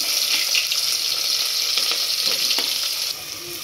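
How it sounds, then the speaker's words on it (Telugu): Onions with mustard seeds and cumin sizzle in a hot pan, a steady bright hiss with small pops and stirring scrapes close by, dropping slightly in intensity near the end. "కడిగి పెట్టుకుని కొన్ని ఆనియన్స్ కూడా వేసుకోవాలి"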